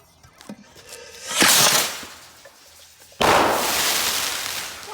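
A homemade blunderbuss fires a load outdoors: a sharp blast with a hissing, crackling burst, followed moments later by a second loud, sustained rushing report, both close and powerful.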